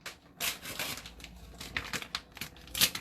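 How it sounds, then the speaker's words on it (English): A tofu package being cut open in a kitchen, heard as crinkly plastic rustling and tearing in short uneven bursts, close and fairly quiet, with no talking. "I'm going to try really hard to cut the tofu open"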